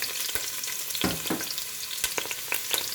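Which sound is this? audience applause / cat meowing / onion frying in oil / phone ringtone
onion frying in oil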